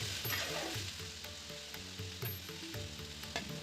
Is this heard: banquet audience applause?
no